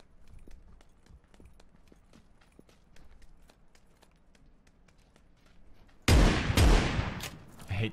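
A shotgun in a first-person shooter video game fires a loud blast that cuts in sharply after a stretch of quiet rhythmic clicking and footsteps. The shot has a long, roaring tail, and a second burst follows near the end.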